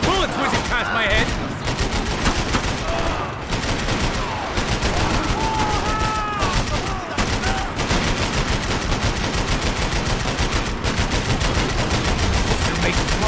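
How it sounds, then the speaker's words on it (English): Dense automatic gunfire in Max Payne 3, loud, rapid bursts overlapping throughout with bullets zipping by, mixed with shouted voices in a chaotic close-range firefight. "I can't concentrate with bullets whizzing past my head!"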